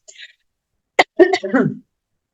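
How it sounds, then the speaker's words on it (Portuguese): A couple of short, close coughs followed by a rough throat clearing, each brief and separated by a short pause. "vou começar a tossir"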